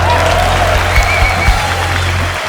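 Studio audience applause on a Hindi comedy talk show, steady and fairly loud for about two seconds, with a few sharper claps, then cutting off abruptly at the end.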